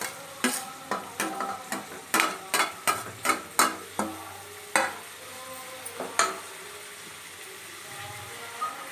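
Tomatoes going into a pan for a mutton masala curry, with a series of sharp stirring clanks of a spoon against the pan over a soft sizzle, irregular and close, with no talking.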